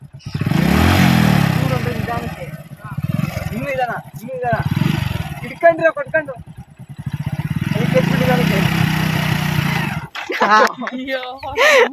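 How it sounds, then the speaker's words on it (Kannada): A motorbike engine starts and runs, its rough, steady rumble and revs filling the clip beneath loud, excited voices of several people talking over it outdoors. "ಗಾಡಿ ಕ್ಲಚ್ ಸ್ಟಾರ್ಟ್ ಆಯ್ತು"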